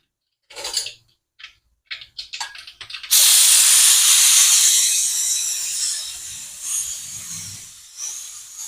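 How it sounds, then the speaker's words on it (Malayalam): Mustard seeds splutter in hot oil for sambar: a few sharp crackles and pops, then a loud sudden hissing burst of sizzle that slowly fades, with faint utensil clinks near the end. "കടുക് പൊട്ടുന്നു."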